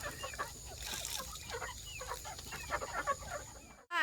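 Chickens cluck in a scattered chorus on a farm during rain, short overlapping calls at moderate distance over a soft steady hiss.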